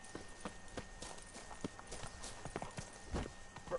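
Roach, Geralt's horse in The Witcher 3, clops along with a quiet, irregular patter of hoofbeats at a walking-to-trotting pace, faint and close over a low ambient bed.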